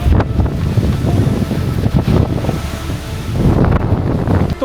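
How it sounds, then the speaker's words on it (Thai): Strong summer storm wind buffets a campsite, roaring steadily and loudly with gusty surges and heavy microphone rumble, alone without voices. "อย่างที่เห็นพายุฤดูร้อนเข้านะครับลมแรงมาก"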